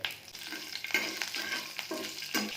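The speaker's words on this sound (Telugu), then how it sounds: "తాలింపు దినుసులు వేసి ఫ్రై చేసుకోవాలి కరివేపాకు కూడా వేసుకోవాలి" Tempering spices and curry leaves fry in hot oil, crackling sizzle with a few stirring scrapes, close and fairly quiet, no talking.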